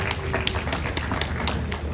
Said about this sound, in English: Can we give a round of applause for all of them?